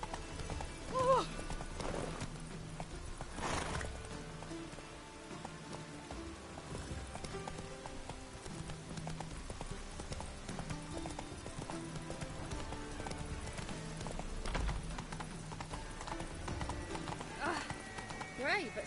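Roach the horse gallops in The Witcher 3: Wild Hunt, with a continuous, steady rhythm of hoofbeats and an occasional whinny, mixed with game background sound while someone talks over it.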